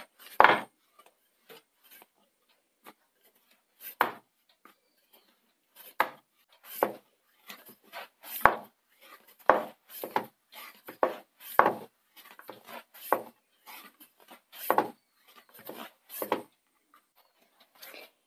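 Stuffed egg chapati dough being rolled out on a board, heard as a steady series of short, close rolling-pin knocks and scrapes in an irregular rhythm, with no voices.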